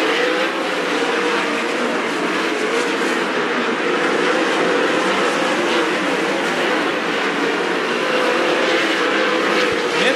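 410 sprint cars racing at Attica Raceway Park, a loud, sustained high-pitched engine roar that holds steady for the whole stretch, with a brief sharp pop near the end.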